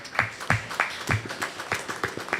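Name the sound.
audience clapping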